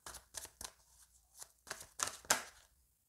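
A tarot deck is cut and handled in a quiet room, giving a string of quick papery slaps and riffles, about eight close crisp taps over a few seconds.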